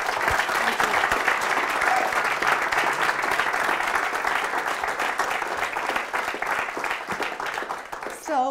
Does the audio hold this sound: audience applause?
yes